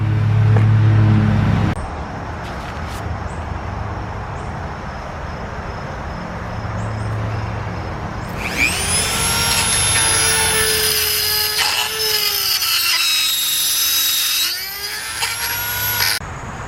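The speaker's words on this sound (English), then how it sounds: "the 9901 tungsten carbide cutter" A 9901 tungsten carbide rotary cutter in a Dremel carves hardened steel, a loud continuous whine with a shrill high-pitched scream that bends up and down, heard up close over a steady motor drone.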